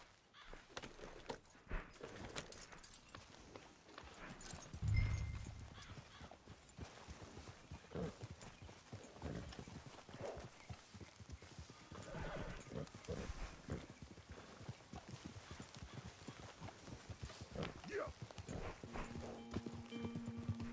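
Horse hooves clip-clop steadily in the open-world western game Red Dead Redemption 2, a continuous walking rhythm under ambient game sound, with a brief louder thump and a faint whinny.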